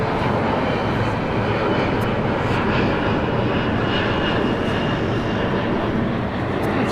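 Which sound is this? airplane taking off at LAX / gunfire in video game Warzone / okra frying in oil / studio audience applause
airplane taking off at LAX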